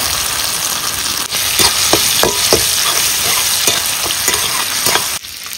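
Bata fish sizzles loudly in a hot pan of oil with tempering spices and tomato, a continuous close frying hiss broken by scraping stir strokes, with no voices.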